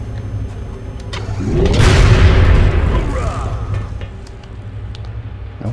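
A weapon fires in the XCOM: Enemy Within video game, one heavy booming blast that swells and rumbles for a couple of seconds before fading back into the quieter game soundscape.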